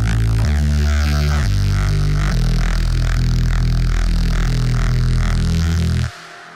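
Venom preset from an Ableton Live bass synth rack: a loud, aggressive synth bass playing sustained notes that change pitch every second or so, with an evolving, swirling upper texture, cutting off abruptly near the end.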